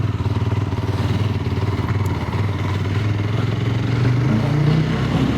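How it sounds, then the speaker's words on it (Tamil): A 2026 Yezdi Scrambler with the new Katar engine pulls away in first gear, its exhaust note a steady, close, loud thumping drone that rises slightly in pitch near the end, with no voices. "வண்டி எக்ஸாஸ்ட் நோட்டு செம்மையாக வந்து பண்ணியிருக்காங்கன்னே சொல்லலாம்."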